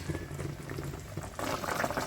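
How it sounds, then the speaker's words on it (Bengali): Fish curry broth bubbling at a rolling boil in a pot, a dense continuous burble that grows louder and fuller partway through, no voices. "ঝোল ফুটে গেছে মাছ দেওয়ার পরও।"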